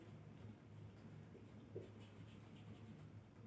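A pen scratches across paper in faint, steady strokes beneath a soft background hiss, with one slightly firmer mark partway through.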